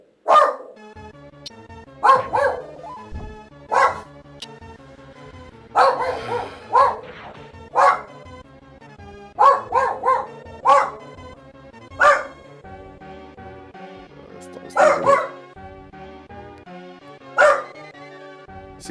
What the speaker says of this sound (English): I can't even speak because he keeps barking.